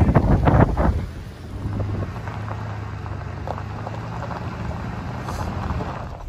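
Strong wind buffets the microphone on a windy day out on the water in a jon boat, a steady gusty roar throughout with a heavier burst at the start and a low droning rumble underneath.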